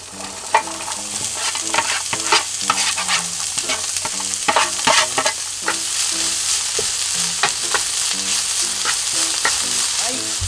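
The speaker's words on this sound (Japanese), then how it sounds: "カブの葉入れてきます。" Turnip greens stir-fried in a little sesame oil in a hot frying pan, with a steady sizzle under repeated scraping and clattering strokes of a spatula, close and continuous throughout.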